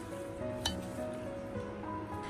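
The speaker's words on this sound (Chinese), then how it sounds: "给它多搅拌一会儿" Chopsticks tossing oil-coated green beans in a bowl: soft, quiet stirring with faint clinks against the dish, one brighter tap standing out over a low, steady background.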